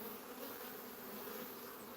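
Honey bees buzzing inside an open beehive with a recently hatched brood, a faint, steady, dense hum of many insects throughout.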